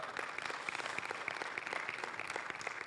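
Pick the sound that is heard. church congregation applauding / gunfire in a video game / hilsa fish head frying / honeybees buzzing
church congregation applauding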